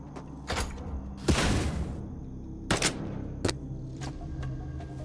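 A shotgun in the video game Shape of Dreams fires spreads of dark bullets, heard as several short, sharp bursts spaced irregularly over a few seconds, one longer and heavier, against a quiet game backdrop.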